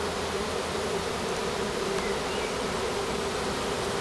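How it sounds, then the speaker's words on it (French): A honeybee swarm fanning its wings at the hive at the foot of a tree makes a dense, steady buzzing drone that holds evenly throughout, with no voices. "Et on peut voir devant quand même un paquet d'abeilles. Il y en a qui commencent à battre des ailes."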